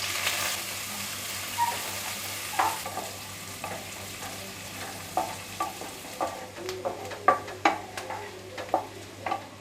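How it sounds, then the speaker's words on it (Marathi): Onion fries in oil in a pan for a dhaba-style chicken curry, with a soft steady sizzle and repeated scraping clinks as it is stirred, the stirring strokes coming in quick bursts toward the end. "कांदा आहे ना तो सोनेरी रंगावर भाजून घ्यायचा आहे"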